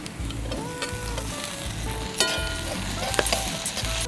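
Onion, capsicum and beans sauté in a hot pan for fried rice, sizzling steadily up close while a spoon scrapes and stirs through the vegetables with occasional clinks.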